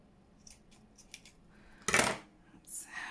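Scissors cutting paper for a junk journal: a few soft snips, then one loud, close cut and a final shorter snip, with no talking.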